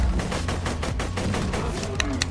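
Rapid automatic gunfire in the video game Borderlands 2, a dense, loud burst of repeated shots rattling steadily for a couple of seconds with a few sharper cracks near the end.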